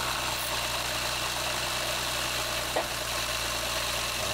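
A Citroën XM Turbo CT engine idles at a steady close drone with a leaking exhaust adding a breathy hiss, interrupted by one brief knock near the end.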